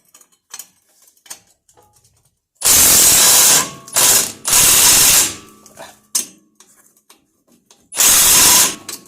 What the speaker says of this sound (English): I'm going to loosen the lower control arms as well.